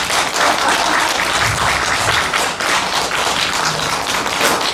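Dense, lively applause from a concert audience at a pumba performance at a station venue, with sustained hand clapping and a few thumps over nearly five seconds.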